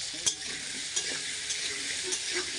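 Potatoes frying in hot oil in a pan, seasoned with turmeric and salt, give a steady, close hiss broken by a few sharp stirring clinks and spatters.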